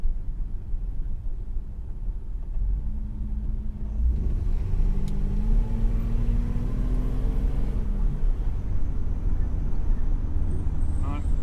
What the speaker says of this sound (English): Sounds like my brakes are scraping again.